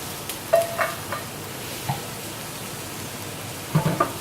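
Browned soy veggie chunks tipped into a pot give a soft, steady sizzle with a few scattered clinks and stirring knocks, close and moderately quiet, with no talking.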